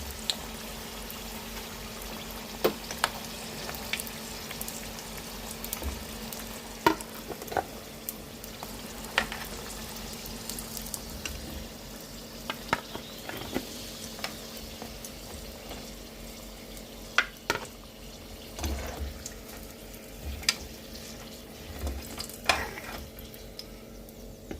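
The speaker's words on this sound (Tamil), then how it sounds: "நல்லா கோல்டன் ப்ரௌன் கலர் ஆகிற வரைக்கும் நம்ம குக் பண்ணணும்" Egg puffs fry in hot oil until golden brown, giving a steady close-up sizzle and bubbling with scattered sharp crackles and pops throughout, no voices.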